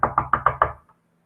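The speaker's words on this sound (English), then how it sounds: "That's them knocking on your door." Five quick, firm knocks on a door in a steady rhythm, close and loud, followed by a faint tap and then silence.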